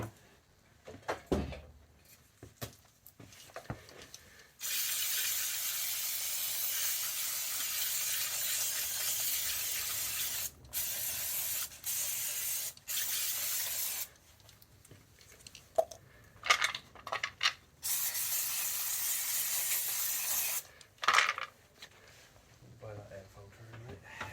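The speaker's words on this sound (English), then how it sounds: "Put some carb cleaner in there and blow it out." Carb cleaner is sprayed and then blown out with a compressed-air line while a Belle RTX60 trench rammer is serviced in a workshop. Two long, steady hissing blasts come with short gaps, and brief voice and handling sounds between them.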